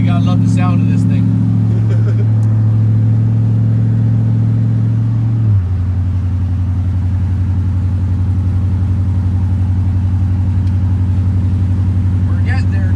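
A truck engine with a 4L80 transmission runs with a deep, steady drone from inside the cab, shifting to a lower pitch partway through, while people talk over it.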